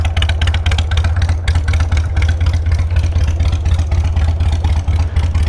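A custom Harley-Davidson Sportster motorcycle engine idling close by, a loud, steady, loping rumble with rapid rhythmic pulses throughout and no speech.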